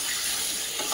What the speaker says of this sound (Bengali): মা একটার পর একটা পরোটা ভাজতে থাকছে